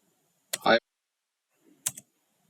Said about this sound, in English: Here I will just type the command node